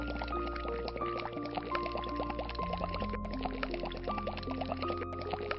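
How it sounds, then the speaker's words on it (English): Water pours into a submerged bottle as air escapes in a steady stream of faint bubbling and gurgling, heard under a layer of sustained tones. "observe air in the form of bubbles starts coming out of the bottle"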